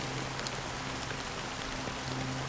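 Steady rain in the video game Honkai Star Rail, a dense continuous wash of patter with a low, faint hum beneath it, no voices.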